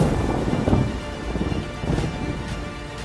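Steady heavy rain pours down near Kudremukh with a constant hiss, and low rumbles of thunder roll underneath throughout.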